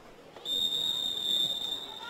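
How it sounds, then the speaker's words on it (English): A referee blows one long, steady whistle blast to start a Kappa Women's Super Cup quarter-final football match between Brisbane City and Souths United, clear above faint stadium background noise. "he will blow his whistle to get us on the way."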